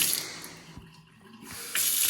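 Water gushing from a household tap in a 1940s house under renovation, a broad hissing rush that briefly eases off before flowing strongly again, close and fairly loud.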